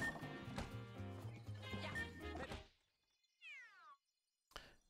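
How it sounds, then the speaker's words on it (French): A cat gives a single clear meow that falls in pitch, heard close in a quiet room just after background music and game sounds stop. "Désolé, je regardais le chat."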